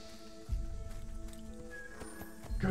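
A horse's hooves clip-clop over the ground in the Assassin's Creed video game while riding toward Jerusalem, a quiet rhythmic patter over soft ambient game sound with heavier thuds near the start and end.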